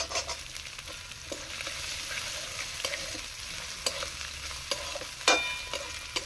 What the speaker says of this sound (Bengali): প্রথমে আদা আর কাঁচা লঙ্কাটাকে এইভাবে ভেজে নেবেন।